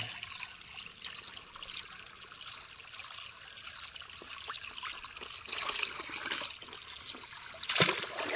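A natural spring stream flows steadily outdoors, a soft continuous trickle and splash that swells louder near the end with a brief burst of splashing.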